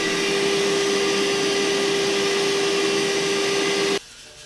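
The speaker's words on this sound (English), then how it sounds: "The easiest way to clean is to use a vacuum." Vacuum cleaner sucking up coffee chaff left from home bean roasting, a loud steady whining drone with a fixed tone that runs unbroken, then cuts off abruptly near the end, leaving quiet room sound.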